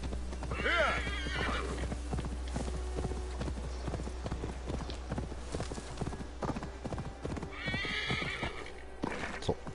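Steady clip-clop of a horse galloping in Assassin's Creed Valhalla, with hoofbeats running throughout over a low constant rumble, and a couple of loud whinnies and snorts near the start and again toward the end.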